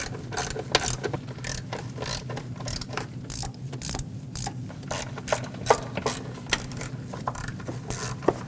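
A ratchet clicks quickly and steadily while tightening hardware during a spark plug job on the 2.5L four-cylinder engine of a Nissan Frontier, making loud close clicking bursts with no talk.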